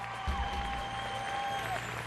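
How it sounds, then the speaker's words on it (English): An audience at the Miss World 2009 pageant applauds the contestants, fairly faint, distant clapping over a hall's background hum, with a voice briefly audible over it. "let's give them all a round of applause"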